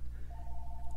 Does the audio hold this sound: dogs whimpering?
no